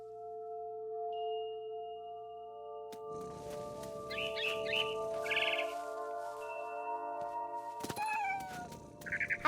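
Several short, clear cat meows from the video game What Remains of Edith Finch, fairly close, over steady tonal background hums and a few brief bird-like chirps.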